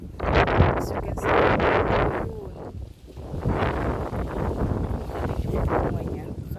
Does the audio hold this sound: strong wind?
yes